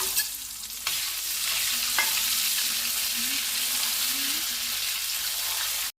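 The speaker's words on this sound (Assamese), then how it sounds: "মই এতিয়া ইয়াতে আলু কেইকণো ফ্ৰাই কৰিম।" Potatoes frying in hot oil in a wok, a steady, continuous sizzle that stays loud and even, with a couple of brief clicks near the start before stopping abruptly at the end.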